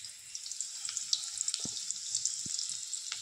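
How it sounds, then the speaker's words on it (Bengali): Vegetable bhaja with chopped onion and green chili sizzles in a pan in a home kitchen, a continuous crackling hiss broken by a few clinks and knocks of utensils. "এবার ভাজাটা বানিয়ে নিচ্ছি রুটির সাথে খেতে"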